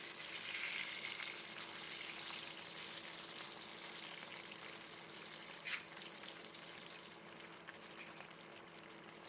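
Chicken pieces frying in a pan for dry chili chicken, a soft, even sizzle that fades slightly, with a couple of brief clinks, no talking.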